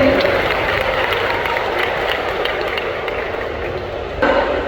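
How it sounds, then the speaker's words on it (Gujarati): Audience at a government urban development celebration applauding to welcome a dignitary, a dense, steady wash of clapping that stays loud from start to finish. "મહામહિન્દ્રા જોશીનું પુષ્પગુચ્છ અને ખૂબ તાળીઓ સાથે આપણે પણ આ ક્ષણને વધાવીએ"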